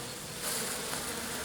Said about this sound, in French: Il y a quand même beaucoup d'abeilles.